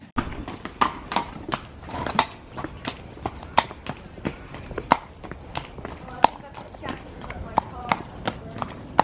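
A horse's hooves clip-clop at a steady walking rhythm, sharp and close, with a faint voice in the background.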